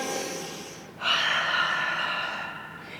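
A single audible breath during a Pilates exercise, a soft airy intake followed by a stronger, breathy exhale lasting about two seconds, close and clear with no talk over it.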